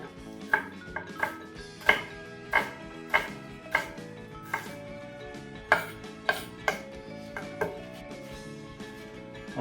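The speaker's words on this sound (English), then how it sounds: "Alrighty, onions all chopped." Knife chopping red onions on a board, heard as sharp, regular knocks about twice a second over a background of music or kitchen sound, fairly close and moderately loud.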